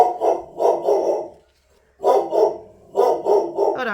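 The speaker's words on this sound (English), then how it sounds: "Oh, there's my dog." A pet dog barks close by in three loud bursts of quick, sharp barks separated by short pauses, with a brief spoken remark.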